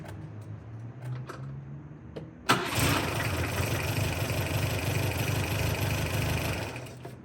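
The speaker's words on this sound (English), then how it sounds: "sometimes half a crank is enough to get it fired up" A few soft clicks, then a car engine, jump-started from a portable battery jump starter, cranks briefly and catches, settling into a steady loud idle that runs to the end.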